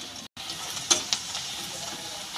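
Onion and green chilli fry in oil with salt and turmeric, a soft, even sizzle close by, marked by two quick utensil taps and a short dropout near the start.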